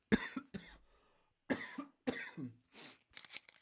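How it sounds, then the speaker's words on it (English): A person coughs harshly several times in short separate bursts, close by and alone, with a brief throat-clearing sound among them. "I've got quite the fucking cough."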